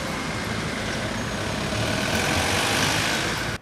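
A traffic jam of dozens of cars on Myru Avenue in Khmelnytskyi at nine in the morning, with engines idling and rumbling in a steady, dense wash of road noise and no talk.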